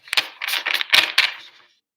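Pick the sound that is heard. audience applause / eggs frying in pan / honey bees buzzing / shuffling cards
shuffling cards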